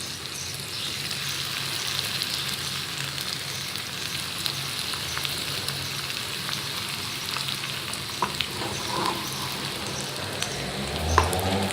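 Macaroni samosas frying in hot oil, a continuous close bubbling sizzle with scattered pops throughout, no voices.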